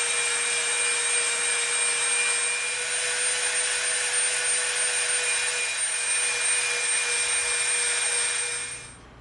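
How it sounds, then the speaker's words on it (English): A rotary tool with a smooth sanding bit grinds EVA foam to clean up a bevel, a steady high motor whine with abrasive hiss held loud and close for nearly nine seconds before winding down. "Now we're gonna come in with our smooth bit, and we're gonna clean it up a little bit."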